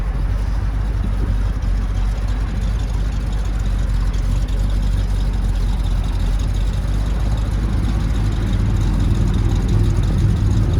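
A restored 1964 Chevrolet Corvette C2 coupe's 327 cubic-inch 300-horsepower V8 idles steadily nearby, a deep, continuous low rumble with no speech over it.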